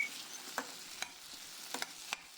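Carrot, capsicum and beans stir-fried over high heat for Indian-style macaroni pasta, a quiet, steady frying hiss broken by a handful of sharp spatula scrapes spaced irregularly, with no talking.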